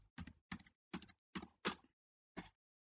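Six distinct keystrokes on a computer keyboard during data entry, five in a steady rhythm and one after a short pause, close and clear in a silent room with no talking.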